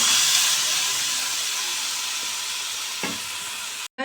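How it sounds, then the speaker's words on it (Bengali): Marinated chicken tipped into a hot pan of ground onion for chicken korma sets off a loud, steady frying sizzle and hiss that holds for several seconds, with a couple of faint clinks of stirring. "চিকেনটা ঢেলে দেব।"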